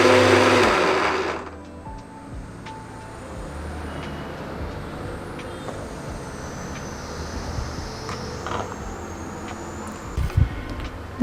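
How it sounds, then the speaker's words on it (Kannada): Mixer grinder whirring as it grinds sugar and cardamom in its jar, a loud burst at the start, then a steadier, fainter motor drone with a few knocks near the end. "ಮಿಕ್ಸಿ ಜಾರಲ್ಲಿ ಸಕ್ಕರೆ ಹಾಕ್ಕೊಂಡಿದ್ದೀನಿ. ಇವಾಗ ಯಾಲಕ್ಕಿ ಹಾಕ್ಕೊತಾ ಇದ್ದೀನಿ."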